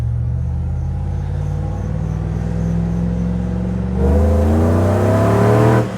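A supercharged Chevrolet Suburban with a larger supercharger pulley accelerates hard in first gear, a loud steady engine rumble climbing in pitch with supercharger whine, surging louder around the fourth second.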